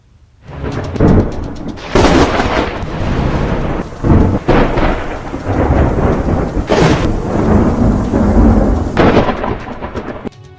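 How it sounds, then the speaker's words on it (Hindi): Heavy rain pours over Bhopal amid rolling thunder, loud cracks and rumbles rising and falling above a steady dense downpour, with no voices. "भोपाल में लगातार हो रही बारिश ने राजधानी की सूरत बिगाड़ दी है।"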